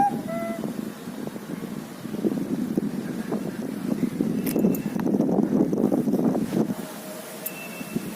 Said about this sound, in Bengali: কুল কুল হাওয়া, ভালো লাগছে ভীষণ।